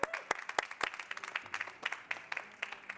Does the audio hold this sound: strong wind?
no